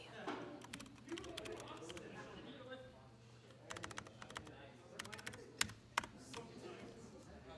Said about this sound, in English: Such a lovely keyboard to be able to type on.